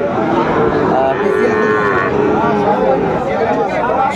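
Sahiwal cattle mooing at the busy Raniganj cattle market in Dinajpur, several long drawn-out lows rising over a loud, dense crowd murmur.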